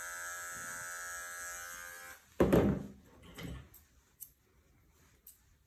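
An electric clipper buzzes steadily, close and loud, as it shaves along a dog's lip line during grooming. It cuts off abruptly, followed by a few clattering handling knocks and taps.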